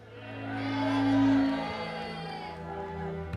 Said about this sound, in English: I'm just going to give you a response from the crowd.